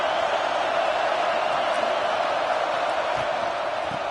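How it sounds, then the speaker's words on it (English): Stadium crowd in a college football video game, a loud, steady roar of cheering spectators that holds evenly throughout with no distinct voices standing out. "listen to this crowd noise. This stadium is vibrating."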